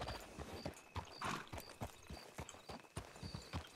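Horse hooves clip-clopping in a roleplay video game, a steady walking rhythm of distinct hoofbeats, fairly close and moderately loud, with a faint whinny and no speech.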